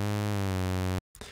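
DUNE 3 software synthesizer tone with an LFO modulating oscillator one's fine tuning, a steady buzzy harmonic drone for about a second that cuts off abruptly, followed by a short silence and a faint tail.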